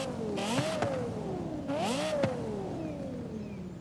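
Dodge Viper V10 engine in Forza Horizon 5 revving hard twice, each rising surge with a crackling peak and a sharp upshift snap, then settling into a steady, loud cruising drone.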